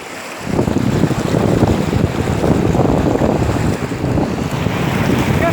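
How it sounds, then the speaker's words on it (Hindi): Floodwater surges in a strong current through a submerged village area in Ahmednagar, a loud, rough, continuous rushing roar that starts abruptly and stays close and constant, without speech. "ये पानी का साउंड सुन सकते हैं आप, इससे आपको अनुभव होगा कि यहाँ पे कितना करंट है।"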